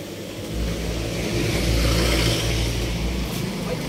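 A car engine swells as it accelerates past on a road, a mid-pitched whirring roar that rises to a peak near the middle and fades slightly, heard fairly close among outdoor ambience.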